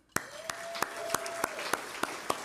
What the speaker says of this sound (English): Please give a big round of applause for Amazon.